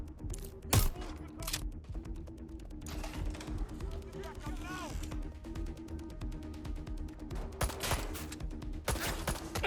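Scattered gunfire from Watch Dogs: Legion rings out in sharp bursts and single cracks at varying distances, interleaved with shouting voices and a steady background hum across a tense firefight.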